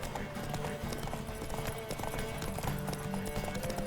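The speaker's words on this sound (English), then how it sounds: "Uy, caballo" Horse hooves clip-clop in a steady trotting rhythm in The Witcher 3: Wild Hunt, close and continuous over game ambience, with a faint whinny.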